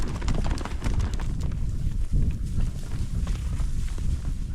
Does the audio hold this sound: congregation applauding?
no